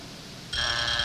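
A match-ending buzzer at a 1981 Irish televised competition cuts in abruptly halfway through and holds as a loud, steady, bright electric tone over faint room noise.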